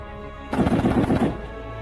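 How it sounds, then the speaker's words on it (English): A short, loud burst of heavy machine gun fire from Marines during waterborne amphibious assault vehicle operations, a dense rapid rattle lasting under a second against a steady engine rumble. "The addition of heavy machine gun fire supports maneuver to close with"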